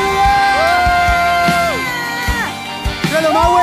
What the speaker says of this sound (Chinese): 给神最大的欢呼，哈利路亚